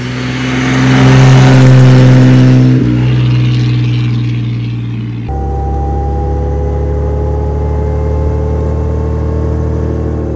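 A 1929 Bentley 6.5 Litre Speed Six vintage racing car engine drives by, a loud, deep, sonorous drone that swells near the start and then settles into a steady lower hum as the car moves on.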